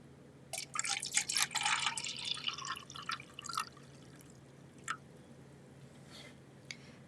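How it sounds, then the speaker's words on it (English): Water splashes and trickles into a cup for a few seconds, then a few faint drips follow in a quiet room. "I'm going to pour it in a cup."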